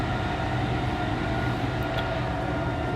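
Steady rumble and rail noise inside a new Chinese-made electric first-class train running from Chiang Mai to Bangkok, a continuous, even drone with no voices.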